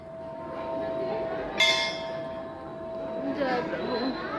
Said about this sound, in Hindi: घंटी बजा के हम लोग आगे चल रहे हैं।